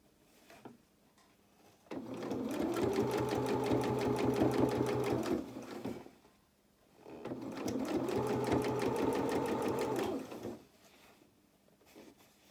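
A sewing machine stitches a doll's twirling dress in two steady bursts of rapid whirring, each lasting a few seconds with a short pause between, heard up close.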